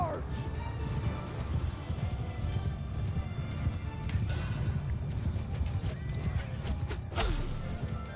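Horse archers' mounts galloping in Mount and Blade 2: Bannerlord, a dense, continuous drumming of hoofbeats under battle noise with a clash near the end, loud and close.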